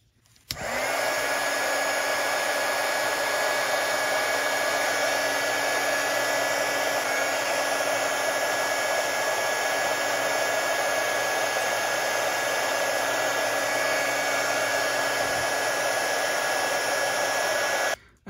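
A heat gun blows hot air to shrink heat shrink tubing on wire bundles for a model build, a steady loud whooshing fan roar with a faint whine that runs unbroken for about seventeen seconds, then switches off.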